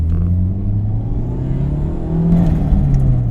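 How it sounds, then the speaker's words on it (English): Turbocharged engine of a 1993 Toyota MR2 Turbo with straight-pipe exhaust, a loud close mid-pitched drone that holds steady and then swells as the revs rise, with no talking over it. "Makes a good tuner car sound."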